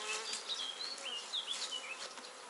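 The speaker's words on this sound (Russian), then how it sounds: "пчелы носят мед" Honey bees buzz steadily around a hive at an apiary, a dense, quiet swarm hum with individual bees whining past close by and no talking.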